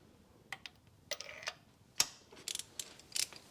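A ratchet with a 5/8 spark plug socket loosens a spark plug on a 2005 Skoda Fabia 1.2 petrol engine, a quiet series of close, sharp clicks and ticks in short irregular bursts.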